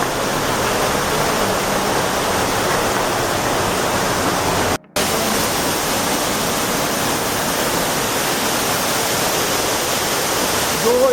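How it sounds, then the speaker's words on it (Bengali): A waterfall at Cherrapunji in Meghalaya roars as a steady, loud, broad rush of falling water, close and continuous, with one brief dropout midway. "এখান থেকে জল পড়ছে।"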